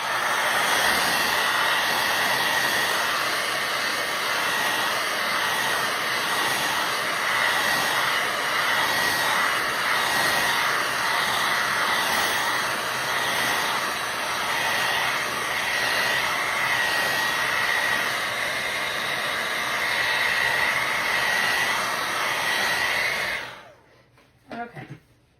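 A hair dryer runs steadily on a handmade cardinal book-stack craft wrapped in twine, giving a loud, even roar that lasts for most of the clip before cutting off abruptly near the end.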